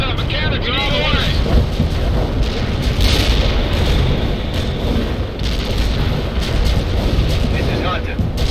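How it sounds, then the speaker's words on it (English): Artillery strike explosions in the PC strategy game World in Conflict: a sustained, rumbling roar of blasts and debris with gusty noise, loud and continuous throughout. "A perfect artillery hit."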